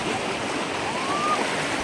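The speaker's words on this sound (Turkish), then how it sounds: "Şurada büyük bir şelale var." Large waterfall about 28 metres high, heard as a steady, dense broadband rush of falling water that stays constant and close throughout, with no voices.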